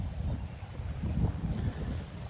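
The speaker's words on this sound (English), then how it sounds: "Windy, windy, windy." Gusty wind buffets the microphone on a beach in North Naples, Florida, a low, rough roar that surges and dips steadily throughout, with no voices.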